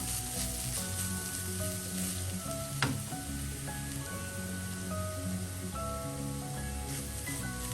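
Carrot stir fry sizzles in a pan as it is stirred, a continuous crackling hiss with soft scraping and one sharp knock midway, while faint music plays underneath.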